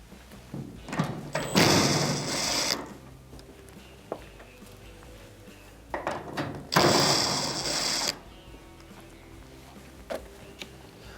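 A screwdriver or nut driver loosens screws from a clothes dryer's terminal block, heard as two separate bursts of ratcheting, scraping turns amid faint clicks and handling noises.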